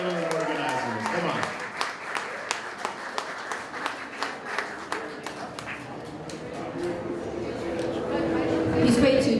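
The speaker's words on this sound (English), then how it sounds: "Give her a little bigger round of applause than that." An audience at a Rotary charity networking evening applauds for the Rotary president, Kathy Arminio, with sharp claps spaced across the room that build into a fuller round of applause, while someone talks over the clapping.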